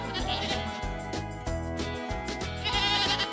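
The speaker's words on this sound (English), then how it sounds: "There are goats on the farm." Farm goats bleat in short, quavering calls mixed into steady background music, with no one speaking.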